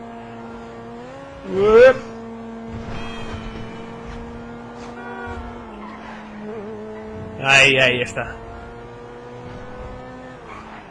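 Engine drone and tire screeches from a car in GTA Online, with two loud skid bursts rising over a steady engine tone, while someone talks briefly over the driving.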